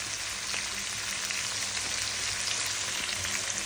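Capsicum and half a cabbage fry in ghee with sugar, making a dense, even, rain-like sizzle that holds steady throughout.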